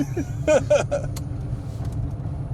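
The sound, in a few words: electric classic Mini car driving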